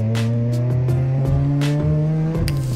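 An Acura TSX race car drives on the Mosport track while the tires are warmed up, its engine droning loud and close with steady tones that dip and rise through shifts, plus brief tire and wind bursts.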